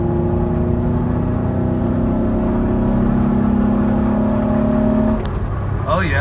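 A Jeep Wrangler's 3.8 engine with an upgraded intake pulls loud and steady with a droning, rising hum, then cuts off near the end as a short voice breaks in.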